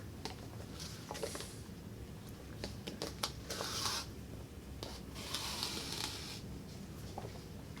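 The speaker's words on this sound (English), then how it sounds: "I'm just going to go ahead and get my whole journal sewn right now." Thread being pulled through paper pages as a journal is hand-sewn with a big needle, heard as soft, quiet scratchy rustles and brief swishes in a fairly hushed room.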